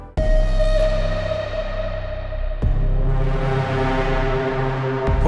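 Crystalline reverb plugin with its tilt-shift tone EQ turned up for a brighter, crisper sound, processing sustained chords into a lush shimmering wash with two distinct note changes under a long ringing tail.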